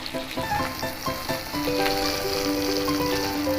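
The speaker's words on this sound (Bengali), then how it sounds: "মাথাগুলো বেশ কড়া করে ভাজবো না, হালকা করেই ভাজবো। মাথাটা ভাজা হোক।" Soft sizzling of hilsa fish heads frying lightly in oil, mixed with clinks and tonal ringing from the pan, fairly quiet throughout.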